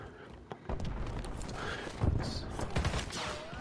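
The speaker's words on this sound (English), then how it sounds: "I hear gunshots though." Rapid bursts of gunfire crackle repeatedly over a noisy, rumbling background, shooting in the video game Call of Duty: Warzone.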